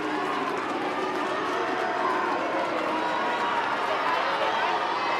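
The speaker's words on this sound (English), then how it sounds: "The roars from the Scotstoun crowd urge Scotland on" A big home crowd at Scotstoun roars continuously during a women's Six Nations rugby match between Scotland and France, a dense sustained wall of cheering with a commentator talking over it.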